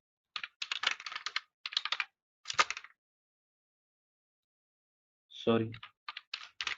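Fingers tap out a terminal command on a computer keyboard in quick bursts of crisp clicks, followed by a pause and then more brief keystrokes, with a short spoken word in between.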